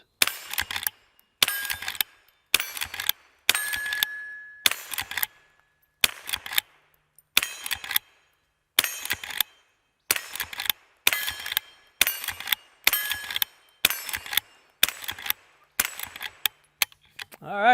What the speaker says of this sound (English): before I go over the specs on the H001 Classic, let's do some shooting